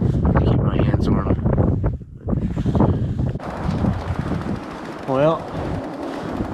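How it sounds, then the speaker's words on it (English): Strong cold wind blowing across a bikepacking rider in Alaskan winter, a steady loud roar buffeting the microphone throughout, with a brief dip in the middle and a voice briefly audible near the end. "There's a pretty nasty wind out. It's blowing."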